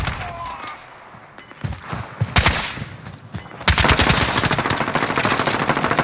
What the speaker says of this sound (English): Keep firing, keep firing, keep firing.